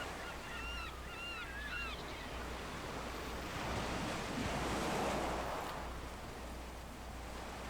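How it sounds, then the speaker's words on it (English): Virtual waves crash on rocks along a shore in Second Life, rising to a loud rolling surge. Steady wind hiss runs underneath, with a few short bird calls early on. "Got a few rocks out there with the crashing waves as well."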